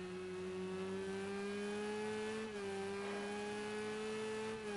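Porsche race car engine in a 24-hour Le Mans endurance racing video game drones at a steady, sustained pitch with a slight dip midway, heard close and alone without talk.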